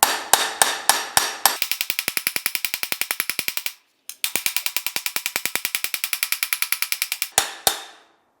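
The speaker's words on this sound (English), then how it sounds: "I'll switch over to the ball peen hammer." A ball peen hammer strikes sheet metal for a car transmission tunnel panel in rapid, even blows, dozens of sharp ringing taps, pausing briefly midway before resuming and ending with a few heavier hits.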